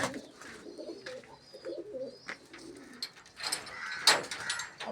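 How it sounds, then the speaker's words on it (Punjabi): Pigeons kept loose outside a breeding loft coo in soft, low repeated phrases, with a few brighter bird calls and clicks rising later over a quiet background. "ਵੱਡੇ ਕਬੂਤਰ ਛੱਡੇ ਹੋਏ ਨੇ ਆਪਣੇ ਬਾਹਰ"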